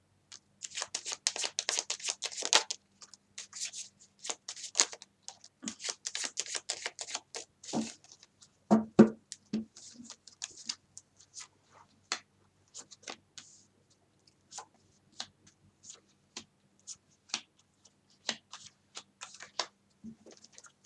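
Tarot cards being shuffled for a reading: bursts of quick, crisp riffling and flicking, louder in the first half, then scattered lighter card taps and slides, close by with no talk.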